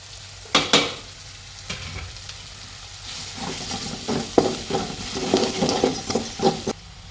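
Steady sizzling of onions frying in a pan as a spoon stirs and scrapes, with repeated light clinks against the metal.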